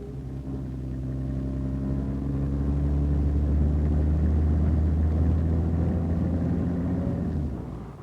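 A 1961 Ford Zephyr or Zodiac with automatic transmission cruises steadily, its mid-pitched engine rumble swelling as it speeds up and then easing off as it slows, close and continuous for most of the stretch.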